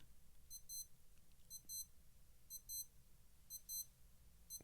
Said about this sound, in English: it'll give us our alarm chime